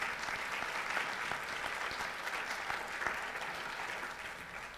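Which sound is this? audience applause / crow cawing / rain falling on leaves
audience applause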